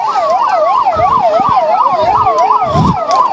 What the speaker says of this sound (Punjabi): ਲਗਾਤਾਰ ਚਾਰ ਪੰਜ ਐਂਬੂਲੈਂਸਾਂ ਹੁਣ ਤੱਕ ਇੱਥੋਂ ਜਾ ਚੁੱਕੀਆਂ